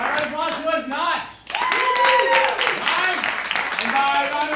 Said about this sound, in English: By a round of applause, who has been to the laboratory before?